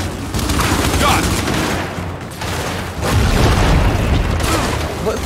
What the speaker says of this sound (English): What the hell is exploding?